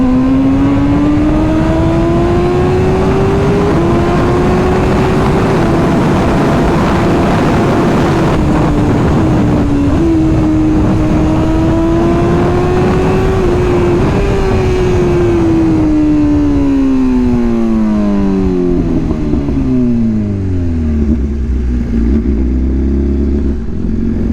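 A BMW superbike, an S1000RR or GS1300, revving hard and accelerating on a Sunday road ride, a loud continuous engine note climbing through gears with rising and falling pitch, winding down as it slows near the end.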